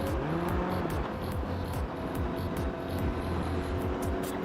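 A motorcycle engine revs loudly in a false neutral between second and third gear, a steady close drone with rising and falling pitch sweeps and no gear engaged.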